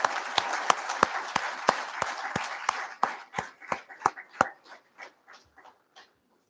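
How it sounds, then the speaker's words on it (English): An audience at a pre-qualified credit card launch event applauds the digital banking team: a dozen or so sharp, fairly evenly spaced claps that thin out and fade to scattered last claps. "I request you all to give huge round of applause for the team digital banking"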